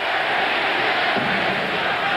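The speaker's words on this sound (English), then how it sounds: "the crowd chanting, Reggie, Reggie" Hockey crowd in Calgary's arena during a 1983 Flames–Oilers NHL game chanting goalie Reggie Lemelin's name, a dense continuous roar of many voices with a rhythmic swell, loud and sustained throughout.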